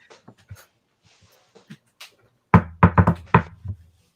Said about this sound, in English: The Viscount is knocking on the door in reaction to this shit.